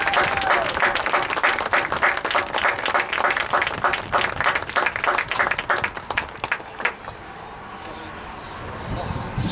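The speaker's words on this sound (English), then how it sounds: "Let's give them a big round of applause." Crowd applause for players and honorees at a lacrosse honor game, with dense sustained clapping for about seven seconds before it fades out, leaving faint bird chirps and outdoor ambience.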